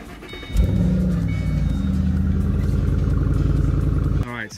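An Impala's engine cranks and catches on a cold start, then settles into a loud, steady rumbling idle for several seconds before cutting off.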